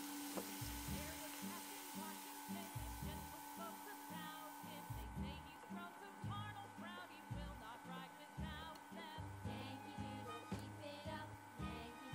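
Shredded potato strands sizzle in hot oil as homemade potato chips fry, a constant hissing bubbling with a voice talking over it throughout.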